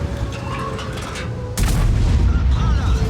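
A tank cannon shot in World of Tanks, fired from a 110 heavy tank, lands as one loud boom with a broadband burst and a rumbling tail, preceded by low game ambience and engine hum.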